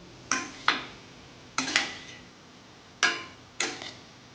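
A spoon knocks against a pan while ivy gourd curry is mixed with spice mix, sharp clacks in three pairs spaced evenly, each fading quickly, close and otherwise quiet.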